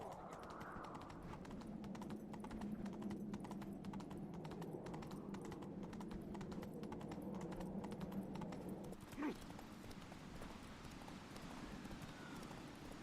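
A horse's hooves beat in steady galloping rhythm across a Witcher 3 landscape, moderately close and continuous, with a brief thud near the end and faint game ambience behind.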